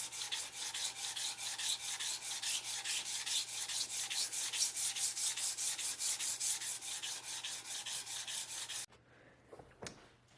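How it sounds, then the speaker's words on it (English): Steady, rhythmic back-and-forth rasp of sanding the flats of a handmade knife blade, close and continuous for most of the stretch before stopping abruptly, followed by a few faint knocks. "it's time to sand these flats out again"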